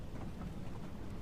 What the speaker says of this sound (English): the rain begins rhythmically falling against the window glass